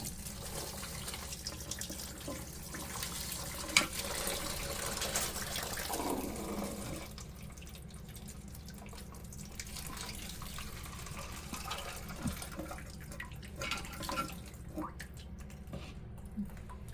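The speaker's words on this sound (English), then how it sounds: "when we lift this up, more water is going to drain out" Water drains from a toilet tank as the part inside is lifted, a continuous splashing and gurgling flow that grows fuller for a few seconds and then settles into a quieter trickle.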